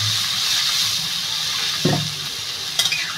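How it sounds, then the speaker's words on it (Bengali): Water is poured into a hot pan of oil with spices and ginger for a Bengali potato curry with catla fish; a close, steady sizzling hiss rises into a short splashing burst near the middle. "আমি জল ঢেলে দেবো, পরিমাণ মতো"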